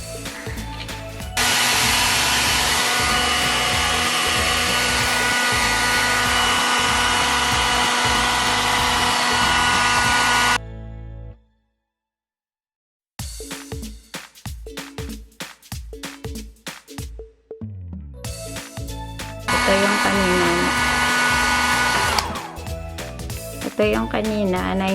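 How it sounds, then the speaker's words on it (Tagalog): A handheld heat blower is aimed at a sticker on a kitchen condiment bottle to loosen it, giving a loud, steady whooshing roar in two long bursts. Sharp clicks and handling knocks fall in the quiet gap between them. "binoblower ko siya para matanggal"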